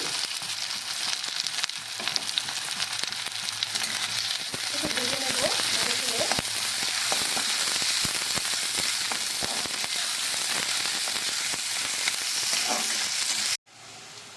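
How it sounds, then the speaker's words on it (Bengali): Chopped onions, two of them, dropped into hot oil and frying for a Bengali eggplant bhorta, with a loud, dense, crackling sizzle, scattered stirring clicks and a faint voice underneath, before the sound cuts off abruptly near the end. "তেলটা আমার গরম হয়ে গেছে এবার দিয়ে দেব পেঁয়াজ কুচি"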